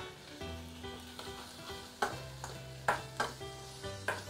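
About a tablespoon of chili flakes sizzling in hot oil in a pot for hairtail fish soup, a faint crackling fry under sustained musical tones, with several sharp louder bursts of sizzle spaced through the second half.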